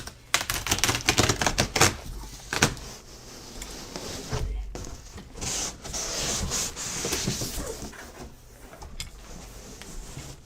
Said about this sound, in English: probably going to have to get rid of the tape here.